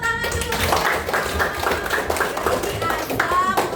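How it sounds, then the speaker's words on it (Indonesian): Classmates clapping hands together in a school lesson, a brisk, irregular patter of many hands that carries on for several seconds, close and fairly loud with some overlapping voices. "Terima kasih, kasih tepuk tangan dulu."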